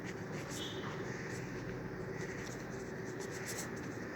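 A definition is handwritten, most likely with a pen, and the tip scratches continuously against paper in faint, soft strokes. Low room noise sits underneath.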